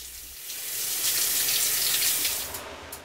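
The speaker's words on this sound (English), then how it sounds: "Once you've got the fish scaled, give it a thorough wash." A scaled red snapper is washed under a running kitchen tap, a steady close splashing hiss that swells and holds for a few seconds, with no voices.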